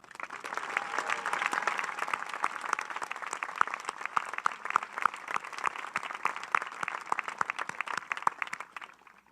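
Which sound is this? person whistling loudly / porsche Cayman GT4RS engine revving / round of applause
round of applause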